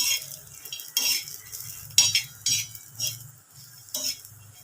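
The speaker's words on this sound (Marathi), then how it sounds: "व्यवस्थित कमी गॅसवरच मिरच्या भाजा तुम्ही" Green chillies fry in a pan over low gas while a metal spoon stirs and scrapes, giving bursts of clinking and scraping about once a second over a soft sizzle, close up, with no talk.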